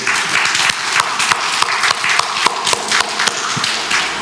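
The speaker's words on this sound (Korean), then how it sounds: "우리 한번 박수 한번 드리겠습니다." A Korean church congregation applauds its founding members near the church's 20th anniversary. Crisp, sustained clapping from a fairly close crowd runs throughout, with individual sharp claps standing out.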